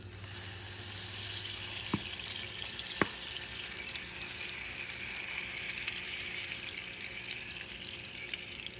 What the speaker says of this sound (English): you start heating that glaze, this honey